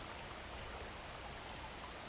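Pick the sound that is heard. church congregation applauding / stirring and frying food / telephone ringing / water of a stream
water of a stream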